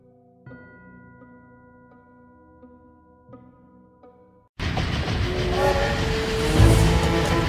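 A train in the adventure game Dracula 3: The Path of the Dragon. A soft musical passage with chiming accents comes first, then the loud, continuous rumble and clatter of rolling railcars suddenly takes over, with a swell near the end.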